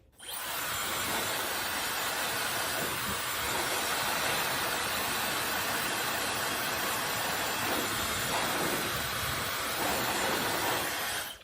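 A hair dryer blow-drying hair extensions, a steady loud broadband whoosh that runs continuously and close at hand with no pauses and no talking.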